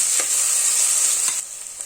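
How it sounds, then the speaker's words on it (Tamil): Onions and green chillies sautéing in a pan for a vegetable biryani, a steady close sizzle with a few soft stirring scrapes, easing slightly quieter near the end. "இதை நல்லா வதக்கிக்கலாம்"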